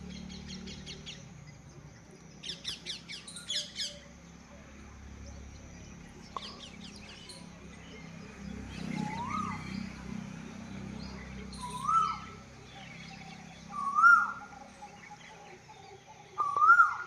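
Birds call around a mango tree in a rural village, with scattered chirps early on and then a run of repeated, evenly spaced whistled notes that grow louder toward the end over soft outdoor ambience.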